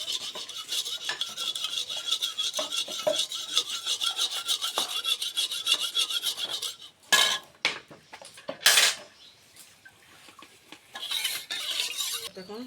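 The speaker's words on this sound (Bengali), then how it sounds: "আমি কড়াই তুলে দিলাম চুলা।" A wok is handled and set onto a stove, with metallic scraping, rubbing and clanking of cookware up close, ending in a few sharp knocks and a short spell of rattling.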